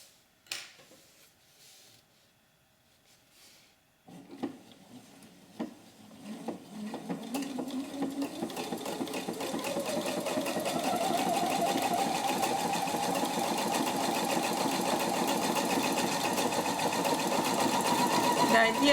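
A Pfaff 720 sewing machine starts after a few quiet clicks and then runs steadily, a close mechanical whirr with rhythmic needle chatter that builds and holds at a constant speed for the rest of the clip.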